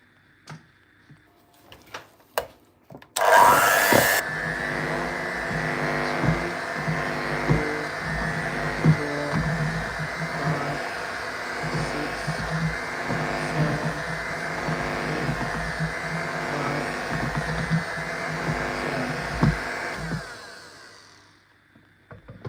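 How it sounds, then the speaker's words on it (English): After a few soft knocks, a blender starts abruptly on a cheesecake mixture with egg yolk and runs as a steady, fairly loud motor whir for about seventeen seconds before winding down to quiet. "We're gonna scrape and we're gonna blend"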